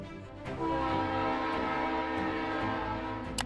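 A train rumbles steadily with a sustained horn-like tone, growing slightly louder as it draws nearer.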